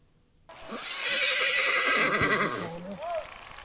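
A horse neighs loudly in a creepy nighttime encounter, a long whinny rising and falling over steady background noise, with a short second call near the end.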